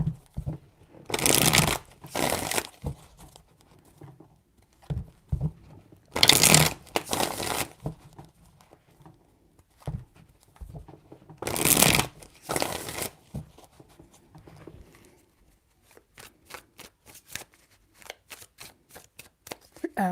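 Tarot cards are shuffled in three separate bursts of riffling, each lasting a second or two, with quieter card handling and soft taps between them. The shuffling is close and crisp.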